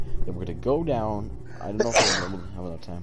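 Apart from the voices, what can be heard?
sneeze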